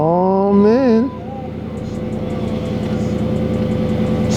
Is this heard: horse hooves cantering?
no